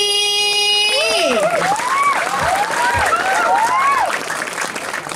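Audience applause at a Balinese temple performance of Galuh Liku at Pura Desa Adat Pelaga, a dense, continuous wash of clapping with a sustained tone and then gliding voices layered over it throughout.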